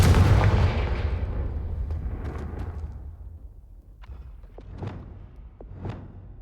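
Confringo spell cast in the video game Hogwarts Legacy: a loud explosive boom that fades over a couple of seconds, followed by several quieter crackling and whooshing bursts.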